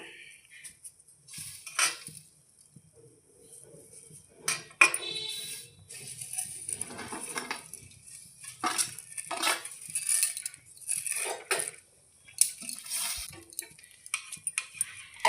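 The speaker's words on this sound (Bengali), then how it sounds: "ভালো করে একটু নাড়াচাড়া করে নিচ্ছি" A spoon stirs fried vermicelli in simmering cow's milk with cashews and raisins in a pot, giving repeated metallic scrapes and clinks in irregular bursts, close and fairly clear, with no talking.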